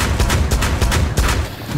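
Rapid bursts of gunfire from the tactical shooter Rainbow Six Siege, on the Presidential Plane map, crackling loud and close in quick repeated shots that overlap into a dense barrage throughout.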